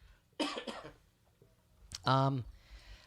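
Two sharp, close coughs separated by a short pause, the second rougher and more voiced, in an otherwise quiet room.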